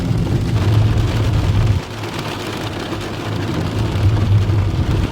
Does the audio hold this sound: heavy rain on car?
yes